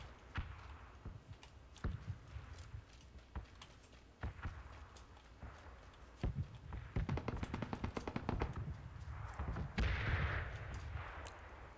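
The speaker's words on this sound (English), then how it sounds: "Let's go run towards the gunfire." Scattered gunshots crack at irregular intervals in PlayerUnknown's Battlegrounds, some single and some in quick bursts, growing denser toward the end over a rumbling background.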